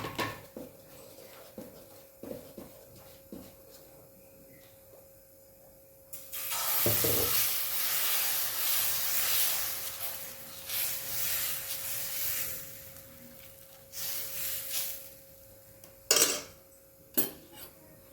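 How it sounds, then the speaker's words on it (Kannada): Protein-rich dosa batter hits a hot tawa wiped with oil, letting out a loud, steady sizzle and hiss for several seconds, with scattered clinks of utensils before and a few sharp knocks near the end. "ಕಾದ್ಮೇಲೆ ದೋಸೆ ಹಾಕ್ಕೊಳ್ಳೋದು ತವೆ ಕಾದ್ಮೇಲೆ ನೋಡಿ"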